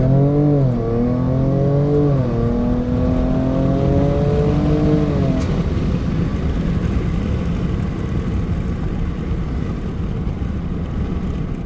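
Ford Ranger Raptor 2022 pickup launches from standstill in a 0 to 100 run, engine note rising steadily through gear changes, loud and continuous over strong road and wind roar.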